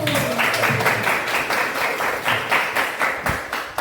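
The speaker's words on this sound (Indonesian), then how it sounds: "Tepuk tangan dulu" A class of students clapping together at the teacher's prompt, a short burst of rhythmic, fairly loud applause with faint voices underneath.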